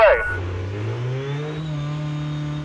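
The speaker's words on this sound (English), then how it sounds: "it can get noisy in that Dakar car with the petrol engine running" The petrol engine of an Audi RS Q e-tron Dakar rally car, a loud, close drone that climbs steadily in pitch as it revs and accelerates, with a short burst of voice at the start.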